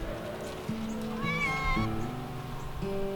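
Cat meowing outdoors in a late autumn garden, one drawn-out, clear meow in the middle heard over a low musical background.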